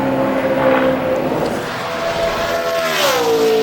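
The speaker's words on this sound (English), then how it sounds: "Mike Bliss driving the 32 car this week" A Braun Racing Toyota NASCAR Cup car runs a qualifying lap at Michigan International Speedway, its engine a steady, loud high-pitched drone that shifts in pitch as the car passes.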